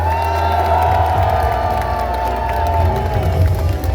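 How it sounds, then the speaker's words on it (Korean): Outdoor crowd at a South Korean presidential campaign rally cheering and shouting, a loud continuous roar of many voices with scattered clapping and a sustained tone running underneath, close and energetic throughout. "시민 여러분 다시 한번 우리 김문수 대통령 후보에게 힘찬 함성과 박수를 부탁드립니다."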